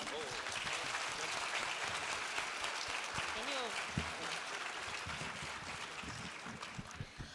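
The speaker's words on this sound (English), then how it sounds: "A big applause, please" An audience at a science expo closing ceremony applauds steadily for a guest. The wash of clapping is fairly faint and distant, with some faint voices underneath.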